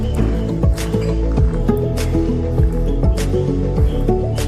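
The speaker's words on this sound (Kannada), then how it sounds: "ಚೆನ್ನಾಗಿ ಹೀಗೆ ಒತ್ತಿ ಒತ್ತಿ ಮಿಕ್ಸ್ ಮಾಡಿಕೊಂಡ್ರೆ ಆಯಿತು" Raw jackfruit lollipop mixture being pressed and mixed by hand with rice flour, cumin, coriander powder, garam masala and salt, giving continuous wet squishing and dripping squelches in a close, busy rhythm.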